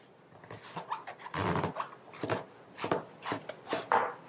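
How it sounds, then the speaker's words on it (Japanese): A sturdy chef's knife chops hard through a firm quince on a cutting board, with a series of close, irregular thuds. "めっちゃ硬いです。 なので包丁もペティナイフとかじゃなくて、もうしっかりした牛刀を使ってもらった方がいいです"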